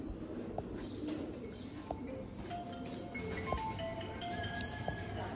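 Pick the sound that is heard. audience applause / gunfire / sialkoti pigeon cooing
sialkoti pigeon cooing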